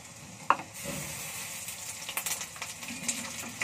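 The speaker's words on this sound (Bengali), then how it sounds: "তো এবার দিয়ে দিচ্ছি আদা রসুনের পেস্ট" Ginger-garlic paste sizzles and fries in hot oil in a home kitchen while chole masala is being cooked. A steady hiss follows a brief clatter.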